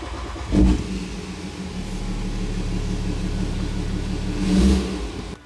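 A BMW N57 diesel engine in a Nissan Patrol conversion cranks and catches with a brief surge, then settles into a steady, close idle rumble before revving slightly near the end, with no talking.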